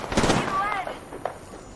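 Gunfire in the video game Apex Legends, a quick burst of rapid shots that fades into a few scattered hits, with a player's voice talking over it.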